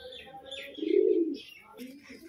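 A male Kalshira pigeon being released into a cage gives a throaty coo, with a stronger swell in the middle, while chirps and faint voices sound nearby.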